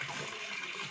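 Tap water runs steadily into empty household utensils being filled for washing, a continuous close hiss and splash with no talk over it.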